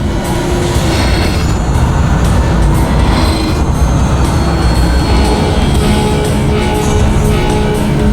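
A train rumbles past in an animated action scene, a loud, continuous roar of wheels and rolling stock with faint clattering and squeals running through the whole stretch.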